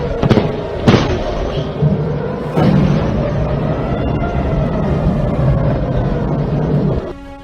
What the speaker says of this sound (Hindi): तेहरान, तबरीज और इस्फहान और करज जैसे प्रमुख शहरों में धमाकों की आवाज सुनाई दी।